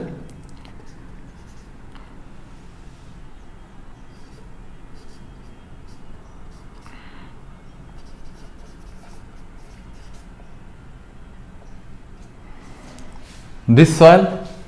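Marker or chalk scratches across a classroom board in a quiet room during a soil mechanics lesson, faint and intermittent, ending in a brief louder burst of strokes.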